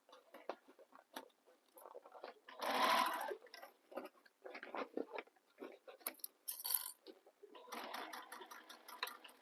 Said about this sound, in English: I'm sewing off the edge of my material here